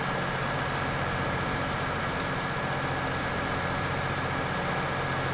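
A tractor engine drones steadily in Farming Simulator 22, a loud, continuous low rumble with no breaks and no voices over it.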